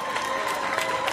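An audience applauds a guest welcomed to the stage at a clown-themed talk show, a steady, distant patter of clapping with faint crowd noise throughout.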